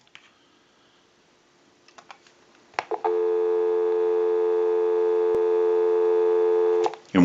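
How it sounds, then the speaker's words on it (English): A few soft clicks, then a steady, loud dial tone on a telephone line, holding evenly for about four seconds before cutting off with a click. "Go ahead and give you some dial tone."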